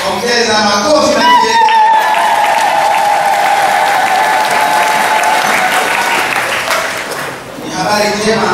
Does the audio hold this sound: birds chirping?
no